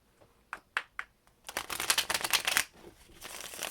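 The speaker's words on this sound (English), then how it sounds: "One more shuffle, please, for water signs." A Rider-Waite tarot deck is shuffled close by: a few light taps, then a quick, dense riffle of crisp flapping card edges lasting about a second.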